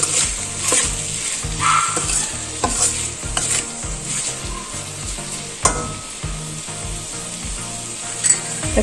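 Okra curry frying in a pan is stirred by hand, a loud continuous sizzle with a repeated scraping rhythm of the spoon and occasional utensil knocks against the pan.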